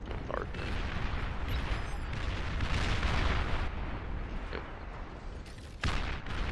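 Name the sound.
artillery bombardment hitting a shield in the video game Beyond All Reason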